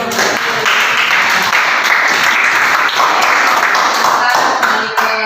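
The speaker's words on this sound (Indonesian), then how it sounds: "Kita beri tepuk tangan dulu." An audience of students at a teaching session applauding, a sustained loud wash of many hands clapping throughout, close, with voices faintly audible underneath.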